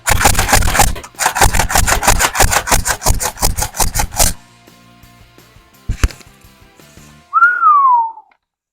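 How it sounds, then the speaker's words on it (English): An X-Shot Pro Longshot toy blaster slam-fires half-length darts in a rapid string of about a dozen loud, close mechanical snaps, then stops; a couple of faint clicks follow before a brief whistle-like sweep near the end. "Let's see how these things fly. Slam fire."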